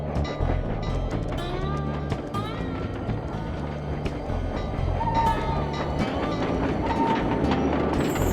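A train in the video game Sly 2: Band of Thieves rumbles with low, continuous mechanical clatter, layered with game music tones and occasional higher squeals and effects.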